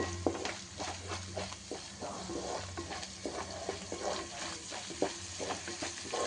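Spices with turmeric fry over medium heat for a crab curry, a busy close sizzle with rapid, repeated stirring scrapes and clatters throughout, fairly soft overall and without talk.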